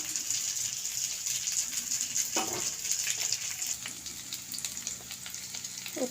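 Fish for a Bengali sour curry sizzles in hot oil as ripe tamarind, bottle gourd and potato go in, a steady close frying hiss with a brief stirring clatter midway and no talk.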